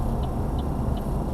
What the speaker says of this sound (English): So here's the signal, taking the left.